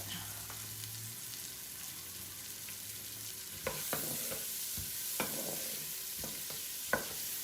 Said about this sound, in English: we're going to saute those in that butter